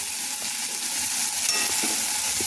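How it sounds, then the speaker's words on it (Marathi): Mashed roasted eggplant bharit is stirred together with finely chopped garlic greens, making a steady, loud, close wet churning and scraping that runs continuously without a pause, with no voices. "आता सर्व जिन्नस एकजीव करून घेऊया"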